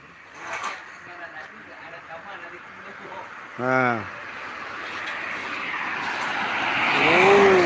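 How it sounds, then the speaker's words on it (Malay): A motorbike passes along a roadside beside Lake Laut Tawar in Aceh at night before the first Ramadan sahur, one rising and falling engine pass mid-stretch, with a second approaching near the end over steady street noise and talk. "Motor lewat."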